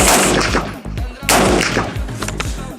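Rapid rifle shots from an AR-15 fired outdoors in quick bursts, sharp loud cracks with short gaps, two strong clusters of repeated firing across a few seconds.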